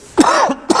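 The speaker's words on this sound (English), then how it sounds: "Forgive my cough, I'm sorry." A single close, loud cough from someone commentator, followed by a short throat-clearing sound, heard on its own with no other talk.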